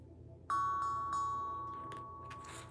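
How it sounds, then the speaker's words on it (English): A small hand bell is struck at the start of a tarot reading to clear the energy, giving several bright ringing strikes whose tone sustains and slowly fades, with light handling noise near the end. "let me do my little bell."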